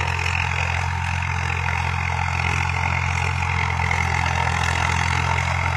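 A tractor engine runs steadily close by, a constant low droning hum with a mechanical rattle and no variation in pace.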